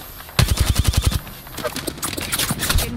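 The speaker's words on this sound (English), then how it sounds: "Getting shot at." Rapid automatic gunfire from the video game Apex Legends, a fast burst of repeated shots followed by more scattered firing, loud and close, with no talk over it.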